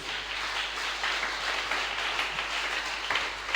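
A church congregation applauding and cheering to acclaim Jesus, a continuous wash of clapping and crowd noise that stays steady and fairly distant through the whole moment.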